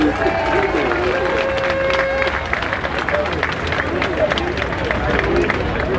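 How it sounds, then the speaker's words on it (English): Applause and crowd noise at a mayor and municipal council inauguration in Newark, New Jersey: scattered clapping over a busy hubbub of voices, with a sustained tone briefly running underneath. "have a round of applause for the"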